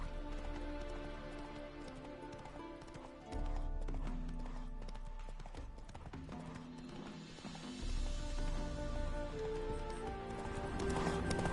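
A horse named in The Witcher 3: Wild Hunt clip-clops steadily at a walk, a continuous rhythmic pattern of hoofbeats under game ambience and music.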